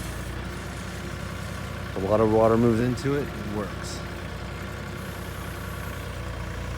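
A small tractor engine idles with a low, steady drone while digging in loose sand and water, and someone talks briefly over it partway through.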